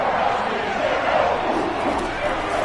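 Football stadium crowd roaring and cheering steadily at a college game ahead of a big third down, a dense, continuous wall of voices at even loudness throughout.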